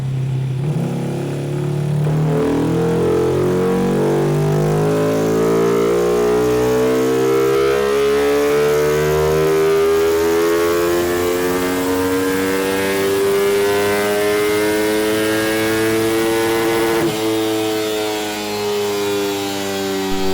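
A stock Yamaha Exciter motorcycle engine on a dyno climbs in a long, loud, continuous rev to high RPM, the pitch rising steadily before a brief dip and another sustained high run.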